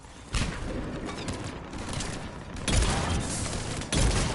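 Heavy starship cannon fire in Mass Effect 3 rumbles in bursts, with three louder booming volleys standing out over a continuous roar of explosions.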